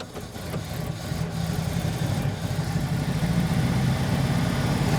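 An abandoned Ford Econoline van engine runs at a steady, rough idle after starting, a continuous low rumble with no speech.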